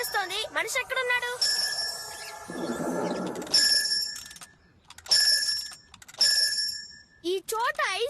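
An ice cream man's bell in the Kid vs. Kat cartoon rings out loud and close in four bright, repeated bursts, with animated voices briefly talking before and after.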